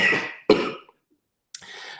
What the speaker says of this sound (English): you're going to hear me coughing a little bit